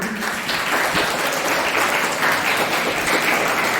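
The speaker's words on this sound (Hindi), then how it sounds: "आप अपने लिए भी जोरदार तालियां बजाएंगे" A crowd applauds loudly and continuously at the opening of a summer camp, a dense wash of many hands clapping close by.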